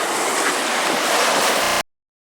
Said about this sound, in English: Right now, we are on Long Island Sound in what is called Plum Gut, and we're in a whirlpool.